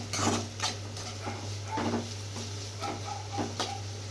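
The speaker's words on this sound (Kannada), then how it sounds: "ಉಳ್ಳಾಗಡ್ಡಿ ಈ ಥರ ಎಣ್ಣೆ ಒಳಗೆ ಹಾಕಿ ಅದನ್ನು ಚಲೋ ಹೊತ್ನಾಗ ಸ್ವಲ್ಪ ಕೆಂಪಾಗೋವರೆಗೂ ಕೈ ಹಿಡ್ಕೊತ ಇದನ್ನು ಫ್ರೈ ಮಾಡ್ಕೋಬೇಕು" Onions fry in oil in a pan for a country chicken gravy while a utensil knocks and scrapes against the metal in scattered clanks over a steady low hum, close and fairly soft.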